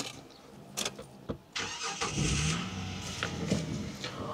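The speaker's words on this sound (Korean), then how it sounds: "시동을 한번 걸어보도록 하겠습니다" A 1999 luxury sedan with a five-speed transmission is started, with clicks and a brief cranking whir before the engine catches and settles into a quiet, close idle.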